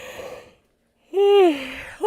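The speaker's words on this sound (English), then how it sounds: "I'm going to yawn." A person yawns aloud, a drawn-out voiced breath that rises and then falls away, close to the mic, after a short silence and with no talk.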